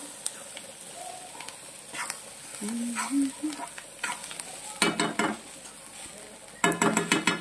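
Onion and tomato sauté in oil with a soft, continuous sizzle, while a spoon scrapes and knocks against the pan in irregular bursts, louder toward the end, with faint voices in the background.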